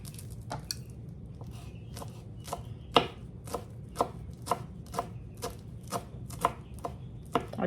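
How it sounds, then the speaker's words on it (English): A knife chops fresh herbs picked from the garden on a cutting board, making a steady series of crisp, close thuds about every half second, with no voices. "So we're just gonna chop this up."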